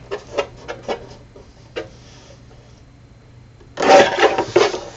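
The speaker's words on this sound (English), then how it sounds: "I'm going to cut 1 inch off of this side" Paper is cut for a junk journal: several short, crisp snips and rustles come first, followed after a pause by a louder, longer burst of cutting or sliding paper near the end.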